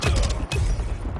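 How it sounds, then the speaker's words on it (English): A gun being reloaded in a first-person shooter game: a few quick mechanical clacks and creaks in close succession, with a heavy thump near the start and again about halfway through. "Reloading."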